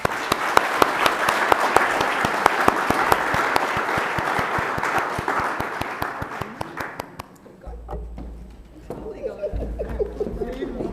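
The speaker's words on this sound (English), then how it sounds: "a round of applause to everyone and every organization who have been part of this very important" Audience applause at the final Seychelles Marine Spatial Plan ceremony, full and steady with sharp individual claps, tapering off after about seven seconds into quiet room noise and a voice speaking.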